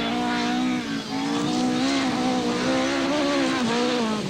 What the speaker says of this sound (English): Listen for the damaged tyres slapping against the bodywork.